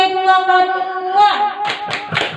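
Group rhythmic clapping at a family capability-building meeting (P2K2 session), a few sharp claps closing out a chanted voice, fairly near and loud.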